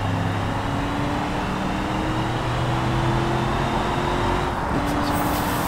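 A pickup truck engine in the BeamNG driving game drones steadily at high revs, loud and continuous, with a brief shift near the end.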